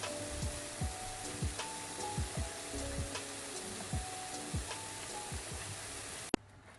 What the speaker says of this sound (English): pipe it out straight into the pan and deep fry it in the hot oil